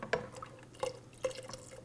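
A starch mixture is poured into milk for rice pudding, giving a few distinct liquid drips and splashes spaced about half a second apart, close and fairly clear against a quiet kitchen background.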